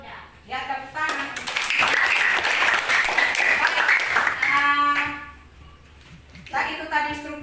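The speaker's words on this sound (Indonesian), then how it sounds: "Ya, tepuk tangan." A classroom breaks into loud applause lasting a few seconds, with a teacher speaking briefly before and after the clapping.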